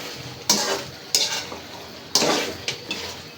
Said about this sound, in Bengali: কষানো হয়ে যাচ্ছে আমার মাংসটা